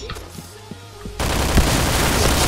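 Sustained video game gunfire, a dense, loud burst of rapid shots that starts abruptly after a quieter stretch and continues unbroken to the end, with no talking over it.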